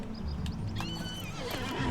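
A chestnut pony mount in the game LOTRO lets out a single clear whinny that rises and wavers for about a second, close and alone, over faint hoof clip-clops and a low background hum.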